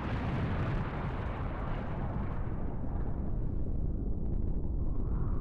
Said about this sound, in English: Nothing like a cataclysmic explosion of a neurobium reactor at the hands of an evil mastermind